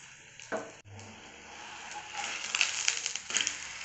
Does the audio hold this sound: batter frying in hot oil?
yes